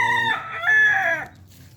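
A rooster crows once, a loud drawn-out cock-a-doodle-doo lasting about a second, up close and alone.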